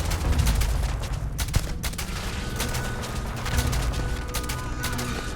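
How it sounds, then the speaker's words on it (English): Gunshots from a firefight in the game Starfield, a busy, continuous spray of rapid cracks and overlapping bursts with rumbling low thuds, loud and sustained throughout, with one sharper shot standing out around the middle. "Missing all my fucking shots"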